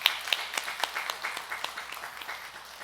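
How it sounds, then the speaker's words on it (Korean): A church congregation applauds its Sunday school teachers during an afternoon teachers' dedication service. The claps are scattered and distinct at moderate level, and they gradually thin out. "큰 박수를 격려해 드리면 좋겠습니다"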